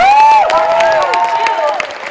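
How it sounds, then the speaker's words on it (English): Audience clapping and cheering for a panel at Liverpool Comic Con, a sustained roomful of applause over its full length, with a voice riding on top and whoops rising and falling through the crowd. "Keep the applause going."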